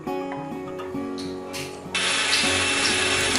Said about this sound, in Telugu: నీళ్లు లేకుండా మెత్తగా గ్రైండ్ చేసుకోవాలి